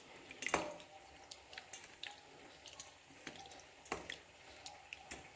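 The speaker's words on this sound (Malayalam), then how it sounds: "നമുക്ക് ഈ വെള്ളം ഒന്ന് അരിച്ചെടുക്കാം" Fenugreek-soaked water drips and trickles through a strainer in faint, irregular little splashes and droplets, some sharper than others, heard close and quiet with no talking.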